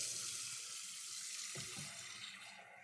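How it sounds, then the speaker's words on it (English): Tap water runs into a pot at a kitchen sink to boil eggs for ramen, a steady close splashing stream that thins and tails off toward the end, with no voices. "So I'm going to fill up a pot of water here to get our eggs in."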